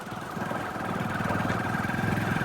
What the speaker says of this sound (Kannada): ಓಜಿ ಬೈಕಲ್ಲಿ ನೋಡಿ ಥರ್ಡ್ ಹೋಗ್ತೈತೆ.